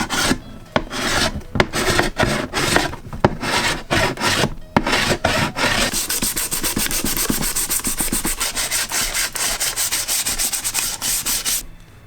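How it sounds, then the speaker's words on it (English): A sculpted clone trooper helmet being refined with files and sandpaper: steady, close rasping and rubbing strokes in a continuous rhythm, shifting from sharp distinct file strokes to a denser, smoother sanding texture partway through. "now I can go in with files and sandpaper and just really refine it"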